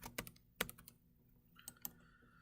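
Keys on a computer keyboard are tapped in short, uneven bursts as a folder name is typed, close and fairly quiet with brief pauses between clusters of clicks.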